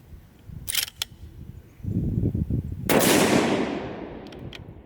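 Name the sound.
Ruger M77 Mark II .22-250 rifle gunshot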